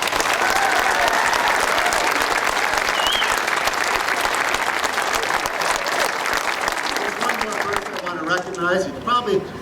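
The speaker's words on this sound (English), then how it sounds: "he deserves a big round of applause" Sustained applause from an audience at a new high school dedication, dense and steady clapping that thins out near the end as a voice begins speaking.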